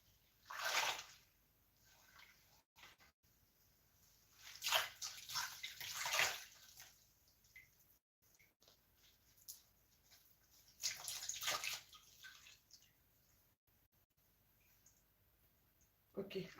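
Cloth dipped and lifted in a basin of water, giving several separate bursts of splashing and sloshing, fairly close, with quiet gaps between them.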